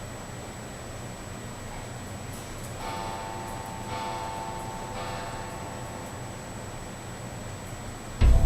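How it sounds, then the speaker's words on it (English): A wall clock chimes at three in the middle of the night, ringing out several sustained, echoing bell-like strokes over a quiet hiss, the tones spaced about a second apart and fading slowly. "the clock on the wall suddenly chimed 3 in the morning, loud enough to jolt someone awake"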